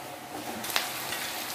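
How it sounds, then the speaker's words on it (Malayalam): Sliced onions fry lightly in a pan for a restaurant-style chilli beef, giving a steady close sizzle with stirring scrapes and a brief louder clatter near the middle. "ഒരുപാട് ഒന്നും ഫ്രൈ ആവണ്ട ഒന്ന് ജസ്റ്റ് ഈ സവാളയുടെ ഒക്കെ ഒന്ന് പച്ചപ്പ് മാറി കിട്ടിയാൽ മാത്രം മതി"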